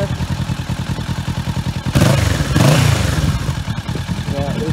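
A 2021 Kawasaki Ninja 650 motorcycle running with an aggressive, loud exhaust, idling with a steady rhythmic throb before a sharp rev swells and falls back to idle.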